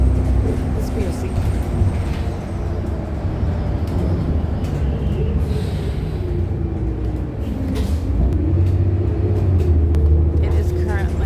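Steady low engine rumble and road noise fill the interior of a city bus riding through the night, a continuous drone with faint rattles and shifting tones throughout.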